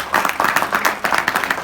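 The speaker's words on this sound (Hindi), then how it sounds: "तालियां कमजोर है ना बच्चों की।" Children clap at a laughter and motivation session: a thin, uneven patter of hands with soft, irregular bursts and no strong swell, sounding fairly close and subdued.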